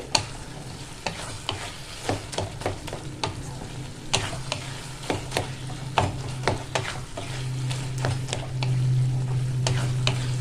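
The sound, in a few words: stirring banana stem and potato curry in pan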